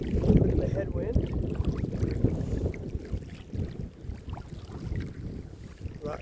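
A canoe is paddled on a wilderness lake in the Boundary Waters against a headwind, with gusty wind noise buffeting the microphone and soft water splashes from paddle strokes throughout.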